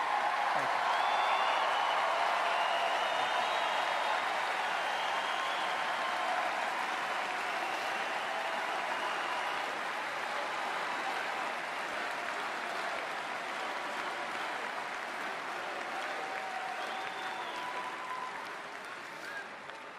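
A large convention crowd at the 2016 Republican National Convention cheers and applauds in a sustained, dense roar that fades slightly toward the end.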